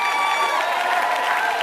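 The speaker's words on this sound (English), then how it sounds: "Keep your hands clapping, family." A close, loud burst of audience hand clapping, continuous and dense, with faint cheering mixed in and no pauses.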